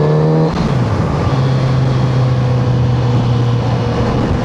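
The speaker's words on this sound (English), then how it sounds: "And when you're off throttle, it has a really nice babble through the exhaust, almost like it's a performance exhaust already." A 2026 Kawasaki Z900RS motorcycle babbles through its exhaust off throttle, a close, loud engine note with a steady low drone after a quick drop in pitch.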